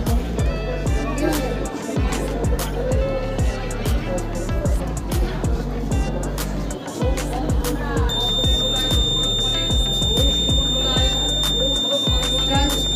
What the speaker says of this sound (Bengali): জল পড়লে এখানে আওয়াজ হবে, ভিতরে লাইট জ্বলবে, অ্যালার্ম বাজবে